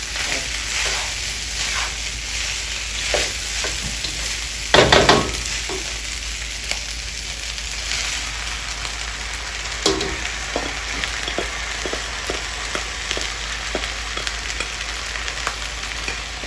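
Vegetables stir-frying in a hot pan, a loud steady sizzle throughout with occasional scraping stirs and one sharp clatter early on, heard close with no talking.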